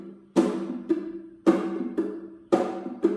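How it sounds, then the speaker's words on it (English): Ukulele strums alternate with muted percussive chucks in a steady pattern, a handful of strokes played close and fairly soft. "So a chuck sounds like this."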